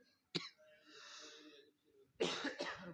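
A sharp cough, then a drawn-out wheezy breath, followed by a harsher burst of coughing, close and alone without speech.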